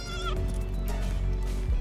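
Sheep bleat in the video game Palworld, a loud wavering bleat in the first third of the clip over a steady low game hum, with fainter bleating calls following.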